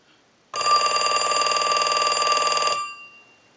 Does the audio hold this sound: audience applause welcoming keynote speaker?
no